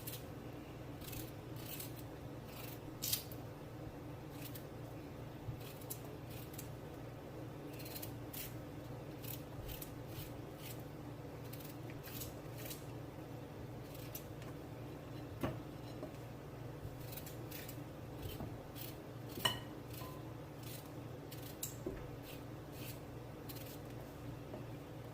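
Raw chicken feet being cut up with kitchen scissors or a knife for a Jamaican-style curry, with repeated short snips and clicks at an irregular pace over a steady low hum, close and fairly quiet, with no talking.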